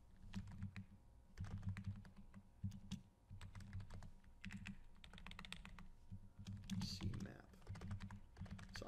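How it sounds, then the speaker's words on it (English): Quiet typing on a computer keyboard, a rapid irregular patter of key clicks in short bursts with brief pauses, over a faint low background hum. "I realize I'm just sitting here quietly typing."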